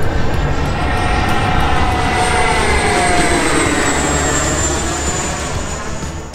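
An FMS BAE Hawk 80mm electric ducted-fan model jet flies at full speed, giving a loud, continuous rushing whine with a slowly shifting pitch that holds steady and then eases slightly toward the end.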